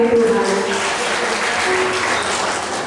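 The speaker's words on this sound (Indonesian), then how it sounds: "Kita mau berikan sorak-sorai bagi Tuhan." A church congregation at a Sunday service claps and cheers together, making a steady dense wash of applause mixed with shouting voices throughout.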